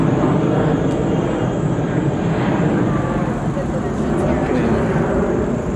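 A low-flying airplane roars overhead near a large shopping mall, a loud steady broadband drone filling the scene, with people talking beneath it.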